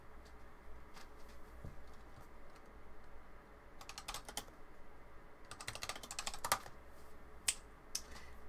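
Fast bursts of typing on a new magnetic mechanical keyboard with linear switches, close and fairly quiet, with pauses between clusters of keystrokes over a steady low background hum.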